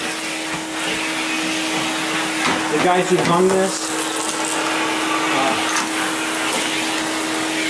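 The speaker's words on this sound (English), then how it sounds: "I'll vacuum it up." A vacuum cleaner runs steadily at close range while sucking up drywall dust and debris left from hanging, its whine constant with rattling bursts as chunks are pulled in, and someone speaks briefly over it.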